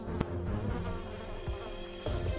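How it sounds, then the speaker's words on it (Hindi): A swarm of honeybees attacks in a cartoon effect, a steady close buzzing drone with a few sharp whooshing hits over about two seconds. "जंगल में पहुंचते ही मेहुल पे काफी सारी मधुमक्खियां हमला कर देती हैं"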